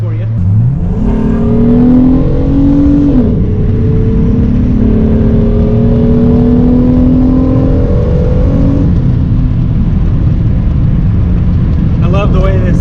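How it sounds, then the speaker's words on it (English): A Honda J35 V6 engine with VTEC revs hard and loud, its pitch climbing in rising sweeps and then holding a high steady whine before settling back to idle. "I love the way this J35 sounds."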